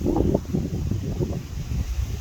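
Strong gusty wind on a farm buffets the microphone, producing a loud, uneven low roar that surges and dips in repeated bursts, with no voices.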